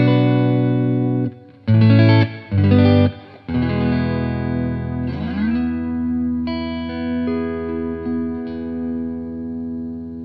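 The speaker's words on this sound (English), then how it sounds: "I'll first of all play some quick chords and single style notes clean with some reverb across 3 selectors positions" Fender Telecaster Debut Series electric guitar played clean on the neck pickup with reverb: a few quick strummed chords with short gaps, then sustained ringing notes that decay slowly in the reverb.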